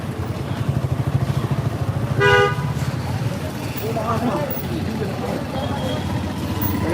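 Vehicle horns toot briefly around the middle of a busy roadside cattle market in Hazaribagh, Dhaka, with engines passing and someone talking over steady crowd and traffic noise.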